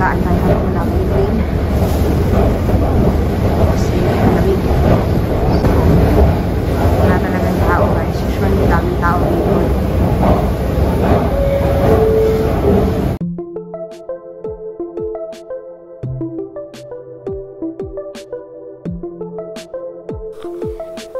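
A commuter train rumbles along on a bitterly cold Edmonton winter day near the North Saskatchewan River, a broad steady rolling roar for about thirteen seconds before it cuts to quieter, thinner sound, with a voice talking over it.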